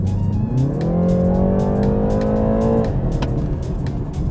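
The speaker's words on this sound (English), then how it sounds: "when you put it into sport mode, it gives a very nice noise" A 2019 BMW 330i M Sport (G20) turbocharged engine in sport mode revs up in a rising harmonic sweep for about three seconds, then drops back, loud and close with no talking.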